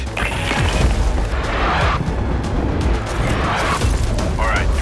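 In the video game Battlefield 6, artillery strikes land as heavy booms and crashes within a dense, loud battle din, under a speaking voice.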